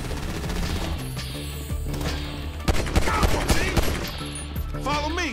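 Gunfire rattles in GTA V during a street gang shootout, with dense, continuous bursts of rapid shots and loud cracks layered over a busy mix of game noise.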